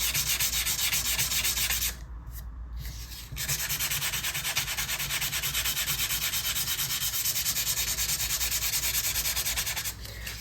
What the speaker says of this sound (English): I also like to fold the sandpaper to get to the corners where the Z file marked.